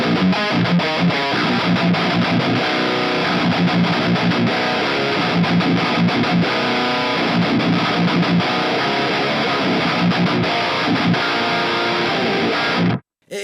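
Heavily distorted electric guitar through a Mooer GE150 Max rock/metal preset with an 808-style overdrive, PV5050-style distortion, Rec 4x12 cabinet and noise gate, played as loud continuous chugging riffs that cut off abruptly at the end.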